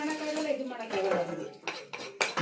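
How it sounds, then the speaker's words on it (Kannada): Pots and dishes are scrubbed with a coir scrubber while a voice talks over it. Short metallic clatters and clinks come up close, especially toward the end. "ಅಮ್ಮ ಹಿಂಗೆ ತೊಳಿಬೇಕಾ ಏನು ನಾರ ಉಜ್ಬೇಕಾ?"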